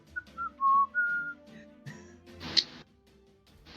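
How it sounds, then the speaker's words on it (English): Soft, breathy whistling of a few short notes and one longer held tone, close by, followed by quiet shuffling and a brief clatter. "whistling softly."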